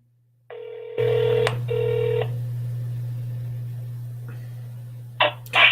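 A telephone call begins with a dial tone, then a few short dialing tones, then a steady line hum with a faint ringback, ending with a couple of louder clicks, clear and close with no talking.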